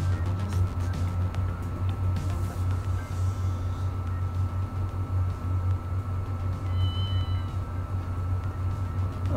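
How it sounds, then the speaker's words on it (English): A cartoonish cat meows in the video game Ghost Trick: Phantom Detective, a couple of short high chirps above a steady loud low hum of game music and background noise. "that was the cutest little meow"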